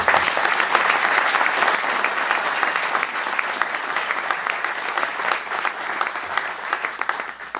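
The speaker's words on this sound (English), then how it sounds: "I'd like a round of applause for Tim" Audience applause at a food pantry grand opening in a room, dense steady clapping from a crowd that stays loud and continuous throughout.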